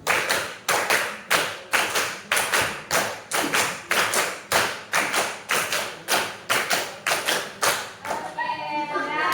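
Steady rhythmic hand clapping, many claps in a regular beat counted in Indonesian, loud and close, ending with a brief trailing noise.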